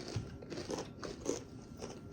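Kettle-cooked barbecue potato chips crunch under several close bites, sharp crackly snaps spaced through quiet chewing.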